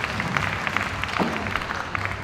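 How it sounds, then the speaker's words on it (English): Applause for a barista competitor at the Singapore National Coffee Championship 2025 finals: a steady, dense patter of crowd clapping in a hall, holding at an even level throughout with no pauses. "A round of applause for Kelly Lee from Santomo Coffee"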